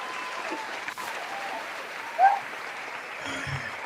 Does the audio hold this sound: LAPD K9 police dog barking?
no